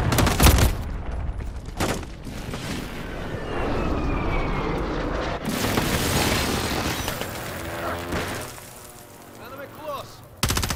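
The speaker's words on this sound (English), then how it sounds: "Friendly precision airstrike inbound." A precision airstrike in a Call of Duty multiplayer match: a jet roars overhead amid rapid gunfire bursts and booming impacts, loud and layered, with in-game voice callouts and chatter over the action.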